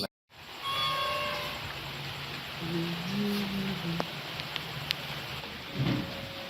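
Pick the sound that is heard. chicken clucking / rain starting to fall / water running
rain starting to fall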